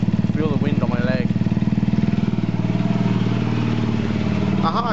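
A Baotian scooter fitted with a Leo Vince exhaust runs nearby with a rapid, throbbing exhaust putter that holds steady. Someone talks over it at times.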